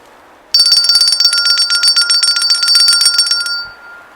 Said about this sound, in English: There's a bell right here.